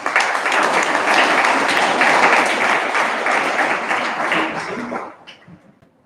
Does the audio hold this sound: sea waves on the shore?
no